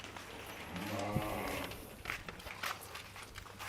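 A Qatag'on sheep being shown at a livestock inspection gives a short harmonic bleat about a second in, close by, over a steady background hum and faint shuffling.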